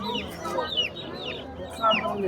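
Several chickens at a poultry market cluck and squawk continuously in a busy, noisy setting, with faint voices in the background.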